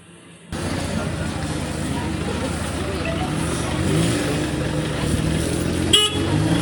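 Busy parking area at Surkanda Devi temple during Navratri, packed with vehicles and pilgrims: a steady wash of idling engines and traffic noise with a car horn sounding briefly near the end.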